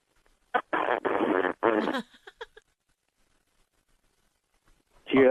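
Several blurty, buzzing bursts come through a tinny phone line, a short run of fart-like noises followed by quieter sputters and silence.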